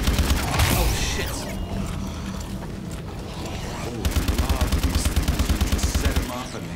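Automatic turrets in Exo Zombies firing on their own, a rapid mechanical rattle of shots that grows denser and more regular toward the end, loud and close over game noise.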